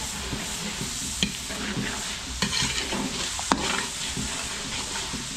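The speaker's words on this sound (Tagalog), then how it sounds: "papapulay ko lang yung bawang sibuyas" Garlic and onion sauté in hot oil with a dense, continuous sizzle, close up, broken by occasional clicks and scrapes of stirring.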